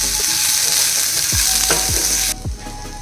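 Vegetable lemon rice being mixed in a hot frying pan, a bright steady sizzle with a few spatula scrapes and knocks against the pan, close, dropping off abruptly near the end.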